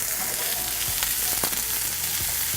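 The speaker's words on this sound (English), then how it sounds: "Nice sizzle." Onions sizzling in a little olive oil in a hot pan, a steady, dense frying hiss with occasional sharper pops and crackles, close and continuous throughout with no voices.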